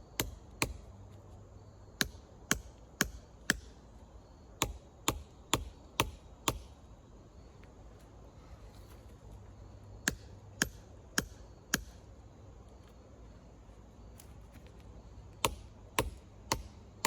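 A 3-pound sledgehammer strikes rock outdoors in clusters of sharp, ringing hits, several quick blows, then a pause and more groups, with low background noise between them.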